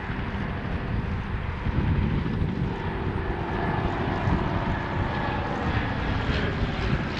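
A propeller biplane at Creve Coeur Airport drones steadily on the airfield, its engine a rough, continuous rumble that swells slightly and stays moderately close, with no voices.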